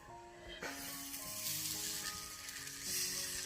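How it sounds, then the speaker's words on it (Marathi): A bajra bhakri roasting on a hot tava over a wood-fired chulha, giving a steady close sizzle and crackle that swells and fades over a few seconds, with no talking. "तवा पण चांगला तापले, आता शेकून घेते"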